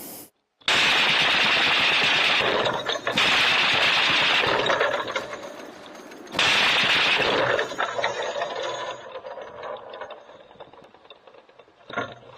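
A Browning machine gun fires long sustained bursts of rapid shots at a distance at an incoming Shahed drone, with short gaps between bursts and a fading rattle at the end.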